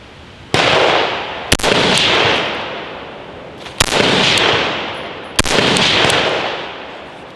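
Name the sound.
gunshots fired at a target from about a foot away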